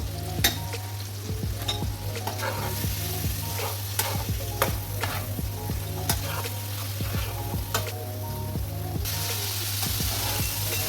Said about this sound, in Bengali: ভাজা হচ্ছে চিংড়ি মাছ খুব বেশি বেশিক্ষণ ভাজা লাগে না